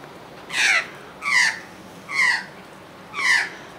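A magpie at Loch Sport gives four harsh, raspy calls in an evenly spaced series, fairly close and clear over faint outdoor background.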